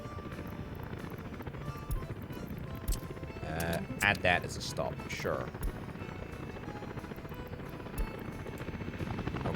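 Helicopters in the city-building game Workers and Resources: Soviet Republic give off a continuous rotor drone throughout, joined by brief tonal interface blips, while someone talks over them.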